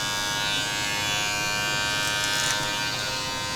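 Electric hair clippers buzz steadily and close up, with the blade guard closed all the way, while cutting long hair clipper-over-comb during a textured mid fade men's haircut at a barbershop.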